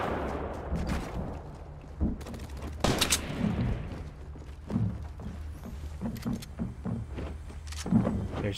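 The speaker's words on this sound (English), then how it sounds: "Yep, I hear gunshots." Scattered distant gunshots in the video game Fortnite, a few sharp cracks and muffled bursts spread across the clip, with no talking.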